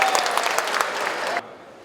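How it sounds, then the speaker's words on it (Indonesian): Audience at a Bandung city government app launch claps in a short, dense burst of applause that cuts off abruptly, leaving quiet room tone. "Tepuk tangan untuk Telkomsel, ya."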